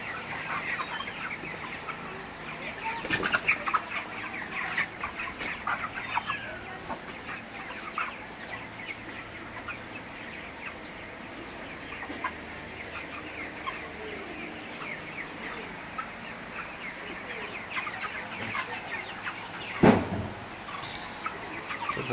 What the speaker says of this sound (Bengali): তো ব্রয়লার মুরগিগুলা আজকে বিক্রি করে দিব